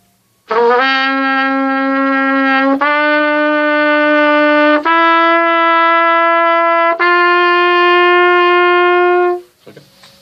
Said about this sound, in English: Now the next note is going to be G, and that's going to be open.